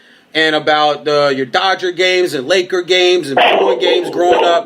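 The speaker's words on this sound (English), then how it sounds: "you can hear my dog in the background." A dog barks and yips in the background at home while someone talks steadily over it, the barking partly buried under his voice.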